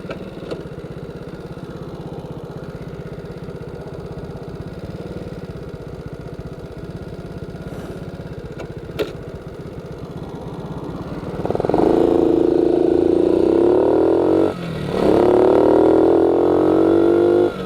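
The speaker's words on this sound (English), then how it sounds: "That's the problem when you're on a small bike." A small Honda Cub motorcycle rides along a road, its engine droning steadily under wind rush, then rising sharply in pitch and loudness as the rider accelerates, dipping briefly at a gear change before climbing again; no talk.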